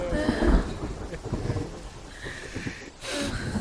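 Heavy rain falls steadily with rumbling thunder, including a low boom early on and a loud burst of downpour near the end, in a nighttime scene from a Malayalam action thriller film.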